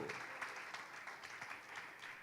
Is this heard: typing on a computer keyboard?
no